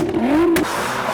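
A car engine revving with its pitch climbing then dropping, followed by a sharp burst of noise as the wheels spin, loud and close.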